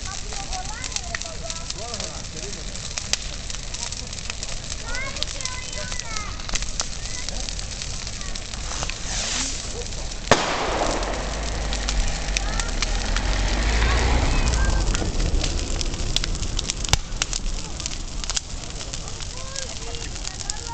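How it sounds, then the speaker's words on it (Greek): A Judas effigy burns outdoors at a Greek Easter gathering in Sasalos, its fire crackling steadily with sharp bangs and pops from fireworks, while people chat and call out throughout. "Πήρε φωτιά ο Ιουδάκης."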